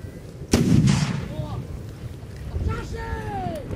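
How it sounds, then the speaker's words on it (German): A historical cannon fires during a reenactment battle at a town's 750th anniversary celebration, one sharp loud boom followed by a rolling echo, with shouted voices afterward. "Lass mal die Geschütze alle rummern hier"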